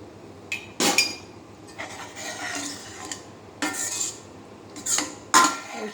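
A spoon stirs ragi vegetable soup in a pot, with several distinct scraping clinks against the metal at irregular intervals between quieter stretches of stirring, close and moderately loud.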